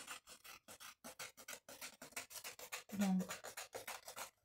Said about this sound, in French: Et je coupe ce qui dépasse